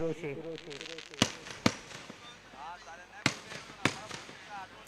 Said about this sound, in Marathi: फटाक्यांची आतिषबाजी होते.